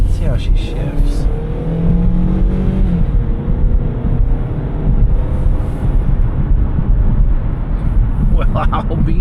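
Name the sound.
2008 Hyundai Sonata driving down the road, shifting gears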